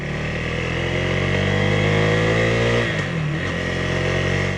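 A 2026 KTM 390 Adventure R motorcycle riding on the road, its engine a steady close hum that briefly dips as if shifting gear, then carries on.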